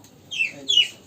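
A hen that has fallen into a well gives two short, thin, weak calls close by, each rising and falling briefly over a quiet background.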